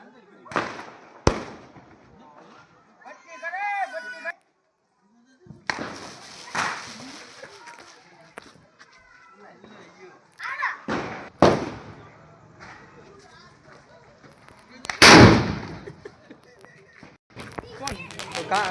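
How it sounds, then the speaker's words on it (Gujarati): Homemade flour-based sutli bomb firecrackers explode during Diwali celebrations, with several loud, sharp blasts spread out over time and one especially big burst near the end, while people talk between the bangs. "અત્યારે બનાવ્યો છે લોટ વાળો ફટાકડો સુતળી બોમ્બ"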